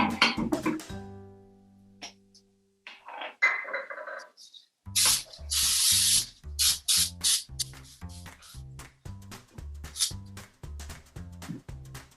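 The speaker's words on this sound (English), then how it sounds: "take your muffin pan and spray it with cooking spray" Several short hissing sprays of cooking spray onto a muffin pan burst out in quick succession, each a sharp pressurized spritz, close and fairly loud.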